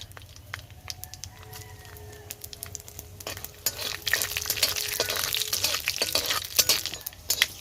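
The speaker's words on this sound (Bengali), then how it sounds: "কড়াইটা গরম হয়ে গেছে তেল দিয়ে দিলাম শুকনো লঙ্কা দুটো কেটে দিয়ে দিচ্ছি পাঁচ ফোড়ন দিলাম" Two cut dried red chillies and panch phoron frying in hot oil in a kadai, a light crackle that swells into dense spattering sizzle halfway through, with a rooster crowing faintly in the background.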